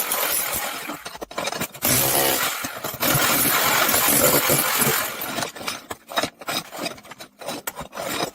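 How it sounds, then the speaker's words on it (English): A chipping hammer breaks up thick floor tile in a bathroom, making loud, harsh rasping and grinding bursts. Between them come scraping and cracking of tile fragments in uneven, stop-start passes. "The chipping hammer is the best invention ever made."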